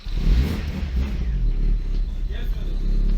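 A 1990 Tofaş Şahin car's engine turns over and rumbles at close range, a low uneven mechanical churn with brief revving, while someone talks over it.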